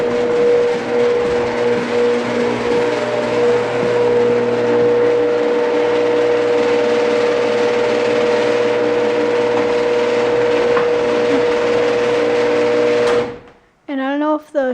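Genie GX9000 screw drive garage door opener running the door down: a steady motor drone with a strong constant whine and rumble, loud and continuous for about thirteen seconds, then abruptly stopping, followed by a brief faint tonal sound.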